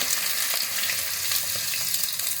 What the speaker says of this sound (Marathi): आता सर्वात पहिल्यांदा आपण बटाट्याच्या फोडी घालूया म्हणजे आपली फोडणी जळणार नाही